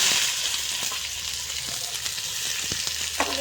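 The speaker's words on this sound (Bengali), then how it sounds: "পেঁয়াজগুলি আমি লাল লাল করে ভেজে নেব" Chopped onions sizzle and fry steadily in hot oil in a wok, a close, constant crackling hiss with a few brief clinks and scrapes near the end; no voices.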